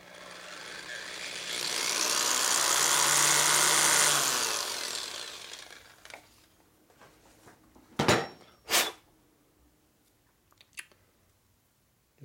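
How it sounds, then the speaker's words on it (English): A drill with a 136-thousandths bit bores out a small spacer for a 1936 Harley-Davidson 45ci flathead, a steady grinding whir lasting several seconds up close, then a few sharp knocks and clicks. "I'm taking 136 thousand drill and drilling out the little spacer here."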